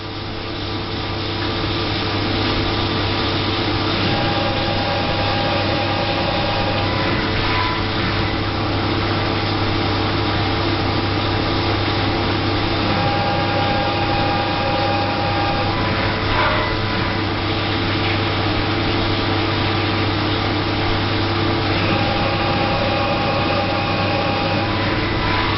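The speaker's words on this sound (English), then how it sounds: "This is counter boring." A machine counterbores holes in an engine cylinder head, giving a steady, loud mechanical hum and whine with a constant low drone and a few faint clinks over about 25 seconds, with no talking.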